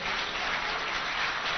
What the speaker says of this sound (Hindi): देखिए कितनी ताली बज रही है